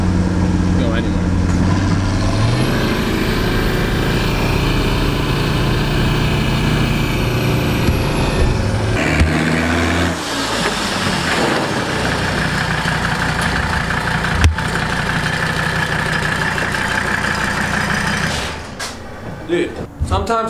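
A hotshot pickup truck engine idles cold with a steady low rumble throughout, loud and close, fluttering a little near the end.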